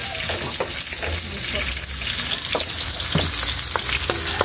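Onions sizzle and fry in a hot pan while adobo of chicken feet is cooked, with a steady crackling hiss throughout, occasional stirring clicks and a faint tap of utensils close by.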